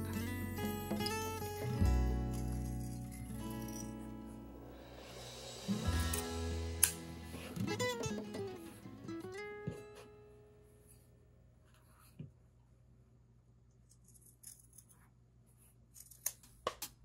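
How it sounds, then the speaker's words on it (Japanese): Scissors cut fabric for a Hawaiian quilt motif, with soft snipping and slicing strokes up close, scattered irregularly between quieter pauses and faint handling of the cloth. "ハサミはなるべく大きく使ってください。"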